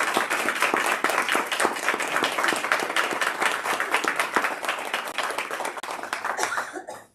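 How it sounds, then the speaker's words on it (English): Audience applause at a board meeting: dense, sustained clapping from a room full of people, steady and fairly loud for about seven seconds before trailing off abruptly at the end. "How about a big round of applause?"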